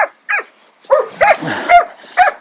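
Several hunting dogs bark and yelp during a wild boar hunt in Amasya, Turkey, in quick, uneven bursts, fairly close, some calls high and whiny among the deeper barks.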